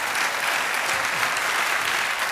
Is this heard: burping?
no